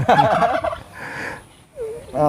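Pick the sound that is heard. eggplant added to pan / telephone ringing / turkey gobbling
turkey gobbling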